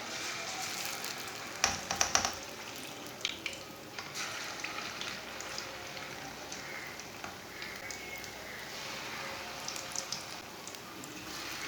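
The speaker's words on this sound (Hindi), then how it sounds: "ऑयल हमारा अच्छी तरह गर्म हो चुका है। अब पकोड़े डाल लेंगे।" Leftover pakoras fry in hot oil with a close, steady crackling sizzle, a few louder pops and spatters near the start as pieces go into the pan.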